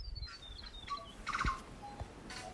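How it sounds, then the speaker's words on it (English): A tui sings in native forest: a quiet series of varied chirps, whistles and clicks with short gaps between them, heard alone against a soft background. "Our tui would let the silence grow in anticipation, then sing a song so loud"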